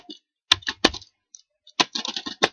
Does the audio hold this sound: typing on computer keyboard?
yes